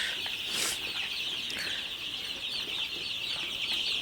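Sonali and broiler chicks at a poultry farm, a dense flock chirping and clucking continuously at moderate distance, with occasional brief wing flutters.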